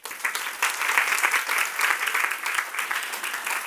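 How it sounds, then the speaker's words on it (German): An audience at a business talk applauds, a steady, fairly loud wash of many hands clapping that swells and ebbs slightly throughout. "Deswegen Applaus für euch"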